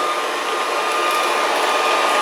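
A Proscenic 790T robot vacuum cleaner running indoors, a loud, steady whirring and rushing hum close by with no talking.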